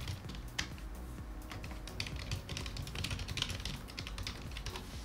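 Steady typing on a computer keyboard while entering a short description for a new GitHub repository: rapid, uneven key clicks in bursts, close and moderately quiet, with no voices.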